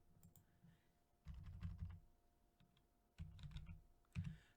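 Quiet bursts of typing on a computer keyboard while entering a field name into a trading platform's options chain settings, two short runs of rapid key clicks separated by a pause, with a final few taps.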